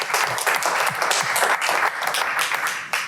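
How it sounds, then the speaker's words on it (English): Audience applause at a Cleveland Heights city council meeting, a steady wash of many hands clapping close and loud throughout, with a few low thumps underneath. "Clap for that."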